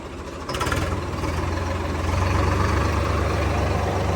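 A Swaraj 855 diesel tractor engine running in gear at about 700–800 rpm chugs steadily with a deep low rumble, picking up slightly after a brief clatter at the start; no talking.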